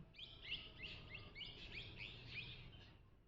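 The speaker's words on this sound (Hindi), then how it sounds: "पंछी की पवित्र ध्वनि।" Small birds chirp and tweet in a steady run of quick, repeated calls, moderately close, with no voices in the scene.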